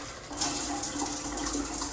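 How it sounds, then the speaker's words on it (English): Weak shower faucet in a hotel bathroom at the Hotel Florence, a Hilton Tapestry Collection hotel, runs as a steady close hiss of thin water flow for the whole stretch, with no talking. "the water flow is kind of weak"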